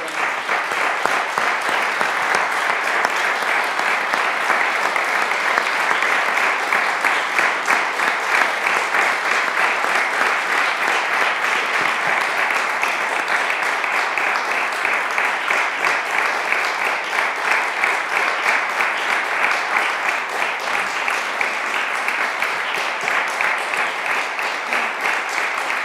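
Long, sustained applause at a ski press conference marking a cross-country champion's retirement, a dense, loud, even wash of many hands clapping that holds steady for about half a minute.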